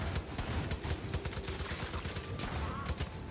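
Light machine gun fire in the video game Far Cry 5, a sustained stream of rapid automatic shots rattling loud and close without pause for the whole stretch.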